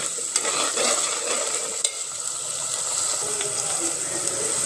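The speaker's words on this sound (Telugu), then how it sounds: "ఇప్పుడు పచ్చిమిర్చి, కరివేపాకు వేసుకుంటున్నా. మళ్ళీ ఒకసారి కలుపుకున్నాము." Green chillies and curry leaves are stirred in a frying pan, making a dense continuous sizzle with occasional brief scrapes of a spoon, close and loud with no talking.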